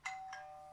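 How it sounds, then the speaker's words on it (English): A doorbell sounds two chimes in quick succession, the second softer, with a ringing tone that fades out in a quiet room. "There it is. There's our doorbell."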